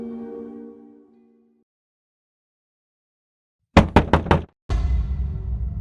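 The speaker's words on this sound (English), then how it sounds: "The parents heard a knock on their door." Knocking on a door in an animated Halloween story: four quick, sharp knocks land close and loud after a fading tone and a stretch of silence, followed by a burst of broad noise.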